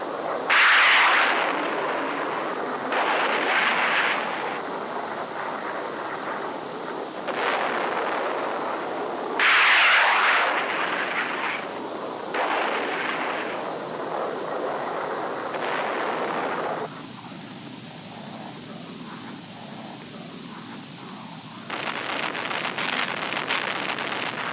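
Bursts of 1960s military airstrike explosions and gunfire against Viet Cong positions erupt in repeated loud, noisy blasts over a constant rumbling background, with no speech.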